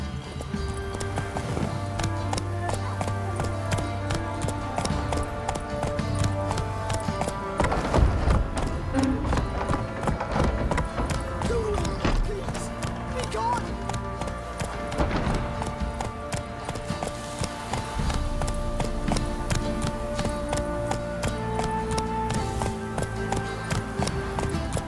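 Roach the horse gallops in The Witcher video game, rapid rhythmic hoofbeats pounding steadily and loud over a backdrop of in-game music, with a brief louder thud midway.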